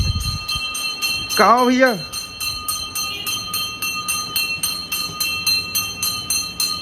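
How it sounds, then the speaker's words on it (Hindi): A street ice cream vendor's hand bell rings in a rapid, steady jingle throughout, fairly near, while a voice calls out briefly over it. "अभी मुझे ना घंटी की आवाज़ आई है"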